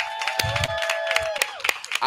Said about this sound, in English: give it a round of applause for that